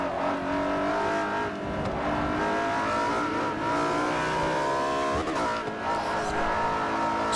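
A race car engine in Forza Motorsport 4, a Spyder Evo, revs loudly and continuously with repeated throttle blips, its harmonic pitch rising and falling in close succession, with a brief tire squeal near the end.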